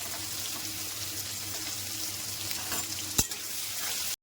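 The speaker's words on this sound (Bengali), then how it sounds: "এবার গোটা গোটা করে আলু কেটে রেখেছিলাম, এগুলো ভেজে দেব।" Potato chunks seasoned with turmeric and salt fry in hot oil, giving a steady, moderate sizzle throughout, with a single sharp utensil clack near the end.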